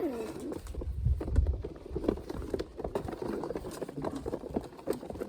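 Pigeons, white fancy pigeons, cooing and stirring close by, with soft wing and foot shuffles and low thumps under a steady background murmur.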